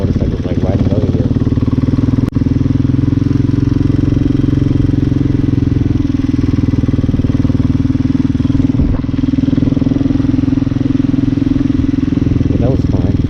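Hawk 250 motorcycle cruising on a steady ride, its engine droning continuously at a constant pitch with a brief clatter partway through, close and loud throughout.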